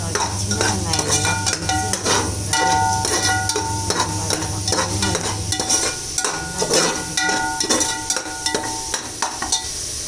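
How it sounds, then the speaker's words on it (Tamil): Shallots sautéing in sesame oil with mustard seeds and curry leaves for a village-style karamani rice dish: a close sizzle broken by repeated stirring scrapes of a spoon against the pan, over background music. "நல்லெண்ணெய் ஊற்றிட்டு அதில் கடுகு கருவேப்பிலை எல்லாம் போட்டு தாளிச்சு சின்ன வெங்காயம் நல்லா"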